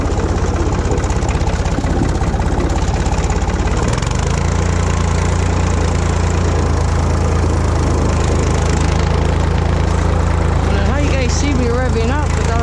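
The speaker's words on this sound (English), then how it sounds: "See me revving up without using the lever here." A machine engine runs loudly and close, shifting to a deeper, steadier rumble partway through, then rising in pitch toward the end as it revs, with voices in the background.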